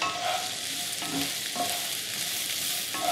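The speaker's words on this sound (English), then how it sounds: "the onions are really sizzling here. Let's give them another stir." Onions sizzling hard in a hot pan, a dense continuous crackle with a few faint stirring scrapes, no talking.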